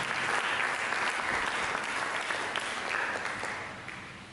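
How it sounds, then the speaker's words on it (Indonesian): A church congregation applauds during a sermon, a dense, sustained wash of many hands clapping at once that holds steady and fades slightly toward the end. "Mari kita berikan tepuk tangan."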